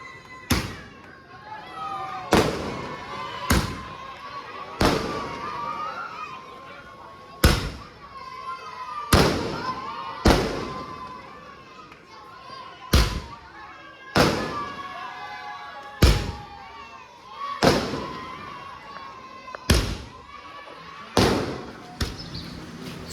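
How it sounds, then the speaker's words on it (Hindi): Fireworks at an Eid ul Adha celebration in Mahim go off in a long series of sharp, loud bangs every second or two, each with a short echoing tail, while voices and crowd noise carry on between the blasts. "फायर वर्क्स हुए हैं"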